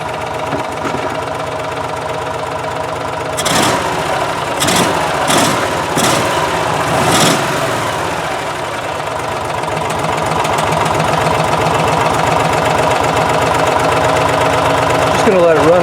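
A Briggs & Stratton engine on a John Deere mower idles steadily after a stuck fuel shutoff solenoid was freed, a close, continuous running drone with a few sharper bursts partway through and a voice talking over it.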